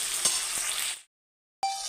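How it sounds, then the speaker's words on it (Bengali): Chopped onions fry in a pan with meat, potato and tomato for a village-style green chicken curry, a bright, steady sizzle with a couple of stirring knocks, cut off briefly by silence before the sizzle resumes. "আর পেঁয়াজ কুচিগুলো এখানে দিয়ে দিলাম। এগুলো আমি অল্প ভেজে নেব।"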